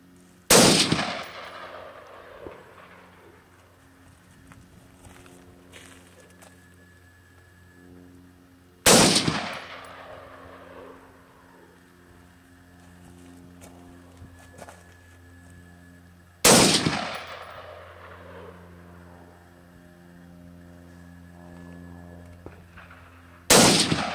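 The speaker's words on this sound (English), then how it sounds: "Kevin is going to watch for Dan to press run and then fire around." Firearm shots fired outdoors for sound level meter testing, four loud single gunshots spaced several seconds apart, each a sharp crack followed by a long fading echo over a low steady background hum.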